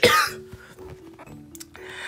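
A single harsh cough bursts out close up, followed by quiet with faint tonal hum, then a short breathy rasp near the end.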